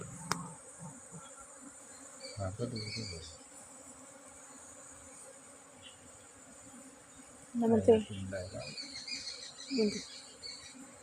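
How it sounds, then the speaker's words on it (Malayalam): A honeybee swarm, taken down from a tree branch, buzzes steadily and faintly while the bees crawl into a hive box, with a few louder, closer bursts of buzzing. "തേനീച്ചെല്ലാം കയറി എററായി ഇനി വെച്ചൊരു തേനീച്ചയേ ഉള്ളൂ"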